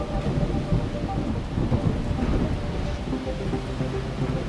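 Steady heavy rain pours during a thunderstorm near Angoulême, with a low continuous rumble of thunder rolling beneath the dense hiss of falling water, loud and unbroken from start to finish with no voices.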